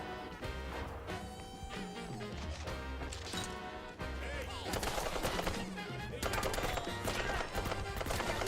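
Gunfire in a Warhammer shooter video game: rapid bursts of shots and sharp cracks mixed with crashes and game music, with a voice talking excitedly over the noise.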